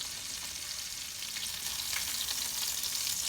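Chicken thighs searing in butter in a hot pan, a continuous crackling sizzle with soft spattering pops, moderately loud and steady throughout.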